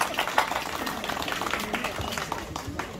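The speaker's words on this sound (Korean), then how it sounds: "박수 한번 더 주세요." Applause from the audience at a Buddhist dharma talk during a Buddha's Birthday service at a temple, a steady mass of clapping that holds for the full stretch at moderate loudness.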